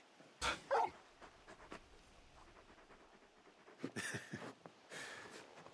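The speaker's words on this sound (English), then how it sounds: "You're just a big puppy, aren't you?" Torgal, a big wolf-like dog in Final Fantasy XVI, makes a couple of sharp close yips and barks, then quieter whimpers and panting, with bursts of game sound around them.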